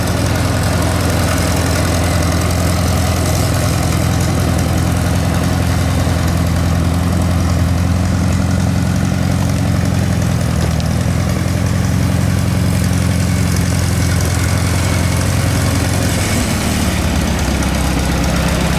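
An antique Allis Chalmers WD45 tractor engine runs steadily close by, a loud, continuous low rumble that keeps going the whole time with a slight dip near the end.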